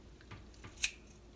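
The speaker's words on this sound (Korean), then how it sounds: "날카로운 가위를 써야지만이 이 미끄덩거리는 거를 제거하기 편합니다" Sharp-pointed scissors snip once through slippery webfoot octopus flesh while it is being cleaned, a single quick, crisp cut standing out faintly against quiet room background.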